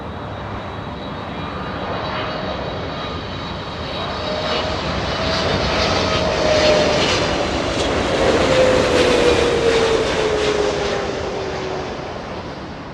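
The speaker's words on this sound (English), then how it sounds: "Spoilers up, flaps down, 777 slowing down with the help of the GE90s" A Korean Air Boeing 777 with GE90 engines lands at Los Angeles International Airport, its engine roar swelling and then holding loud with a whining tone that slowly drops in pitch as it slows on the runway.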